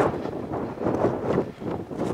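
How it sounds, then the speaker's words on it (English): Steady low rumbling wind buffeting the microphone at Porth Wen Brickworks, loud and continuous with slight gusts, no voices. "I wish that wind would do one."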